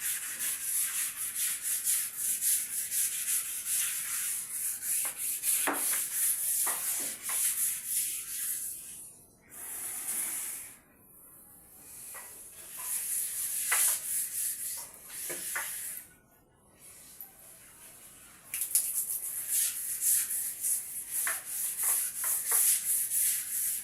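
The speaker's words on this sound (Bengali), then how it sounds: "আমি এখন এই বাথরুমটা একটুখানি স্নান করার সময় একটুখানি রেগুলার একটু ঘষে নিই" Rhythmic scrubbing on a marble bathroom floor, close bursts of brushy rubbing strokes with two short pauses, steady and fairly loud without talk.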